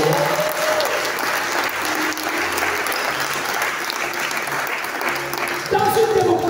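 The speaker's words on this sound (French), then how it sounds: "On donne des acclamations au roi." A church congregation at a French-language session claps and cheers in acclamation, a loud sustained wash of applause with voices rising above it and a louder swell near the end.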